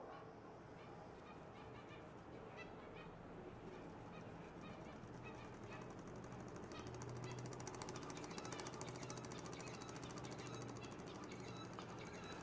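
A small homemade oscillating wobbler steam engine runs slowly, giving a faint, steady mechanical clicking and ticking that grows a little busier partway through, heard quietly at close range without talk.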